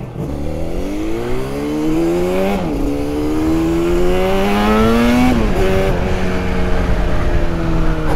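Yamaha RD350 YPVS two-stroke motorcycle fitted with performance expansion chambers kicks into life on the first attempt and revs repeatedly, its loud, close engine note rising and dropping through several blips with no talk over it.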